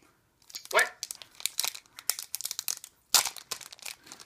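A Pokémon XY5 Primal Clash booster pack wrapper is torn open and crinkled, giving a run of sharp tearing bursts and crackly foil rustles in quick irregular succession, close up, with talk in the background.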